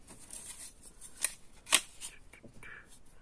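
Scissors snipping paper to make a scrapbook pocket for an A4 album, a few short crisp cuts with two louder snips standing out against quiet background, no voices.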